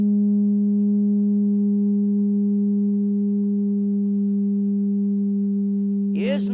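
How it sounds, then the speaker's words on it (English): A Rijke tube, a pipe with a heated wire screen, sounds a steady, loud, pure hum that holds unbroken throughout, with a brief sliding chirp near the end. "I'm going to fill this pipe with music"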